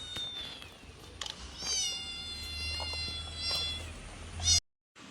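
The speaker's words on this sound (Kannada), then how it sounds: "ಇದು ನಮ್ಮ ಪುಷಿ ಕ್ಯಾಟ್" A domestic cat meows several times in close, clear drawn-out calls over a low steady hum, with a brief louder burst near the end before the sound cuts off.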